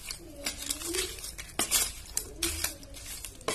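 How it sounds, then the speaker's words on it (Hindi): A spoon clinks and scrapes against a metal pot as spices are stirred and mixed with mustard oil for a mutton stew, with irregular metallic taps and scraping strokes up close. "अब इसे मैं अच्छी तरह से मिक्स कर लूंगी सबको"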